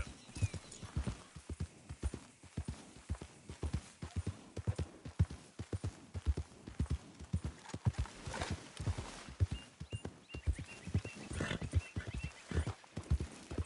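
Horse hooves clip-clop in a steady, even rhythm as a horse is ridden in the Western game Red Dead Redemption 2, the beats close and clear, with a brief whinny-like sound partway through and no talking.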